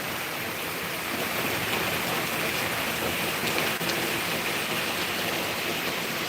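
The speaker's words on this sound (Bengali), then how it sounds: "বৃষ্টি তো কমার কোনো মানে আলামতো দেখলাম না, কমতেও নাই মনে হয়" Heavy rain pours down as a dense, steady, close roar of hiss that holds constant throughout, with no voices.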